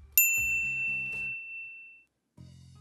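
A single bright notification bell rings out with a clear metallic ding that decays over about two seconds, preceded by a soft pop and set against light background music.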